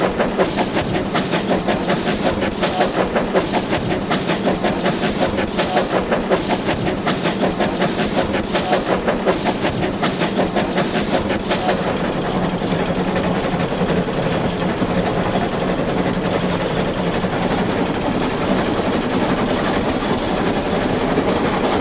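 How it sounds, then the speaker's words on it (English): A steam locomotive hauls its train on the final steep climb to Arthur's Pass, with loud, rapid, evenly spaced chuffs for about twelve seconds that give way to a continuous heavy rumble and clatter. "the driver guides the train skillfully during the final slog up to Arthur's"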